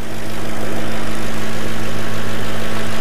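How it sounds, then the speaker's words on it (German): V8 car engine idling, a steady loud low rumble with a constant hum, close and alone with no voices. "Ja, hier ist einmal der V8 Motor."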